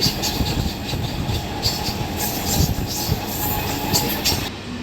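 A passenger train runs at speed around 100 km/h, a steady rushing rumble with faint rhythmic clatter of wheels on track, heard from on board without talk.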